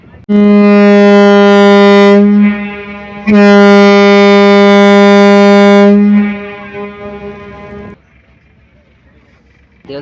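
Passenger launch ferry MV Manik 11 departing the landing ghat at Lalmohan, its deep horn blaring loud and close in two long blasts separated by a short break, then fading to low engine rumble.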